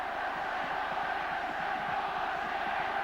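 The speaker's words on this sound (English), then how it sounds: "And the crowd are going potty." A packed rugby league crowd roars during a 2001 St Helens v Wigan match, a dense, sustained wall of cheering and shouting with no break.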